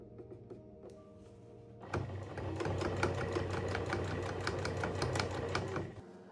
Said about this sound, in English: So once they're all ironed and nicely placed, then it's time to sew.